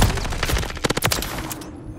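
Gunfire in Call of Duty, loud and close, with a rapid automatic burst of about half a dozen shots in the middle of the stretch before the sound cuts off into near silence.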